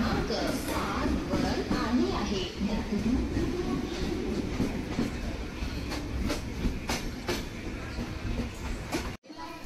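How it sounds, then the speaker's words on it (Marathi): A passenger train rumbles steadily along the tracks with rhythmic clatter, heard from inside a carriage, with a faint murmur of voices in the background. "तर आता आपली ट्रेन सुटली आहे"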